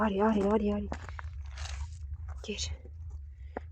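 A dog eats food outdoors in snow, with close crunching and biting bursts that follow a short stretch of quiet voice, the chewing sparse and fairly faint over low background rumble.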